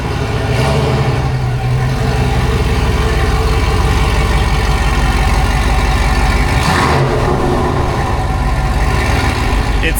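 A supercharged LS V8 in a Chevrolet Tahoe idles loud and close, a steady rough rumble with a lumpy rhythm that holds unbroken throughout, with no voices over it.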